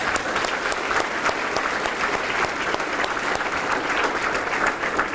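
Sustained audience applause for the governor at a high school coding event, a dense, steady wash of many hands clapping with no talk over it.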